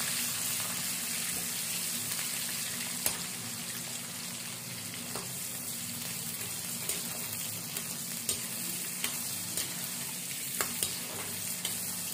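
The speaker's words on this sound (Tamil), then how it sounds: "அப்புறம் எண்ணெயில் பொரிக்கணும்" Continuous sizzling and crackling of dry fish frying in hot oil, with occasional sharp pops and spatters, close and fairly loud.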